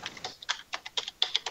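Computer keyboard typing picked up over a live radio call-in line, a quick irregular run of sharp key clicks with short pauses, fairly faint and without any talk.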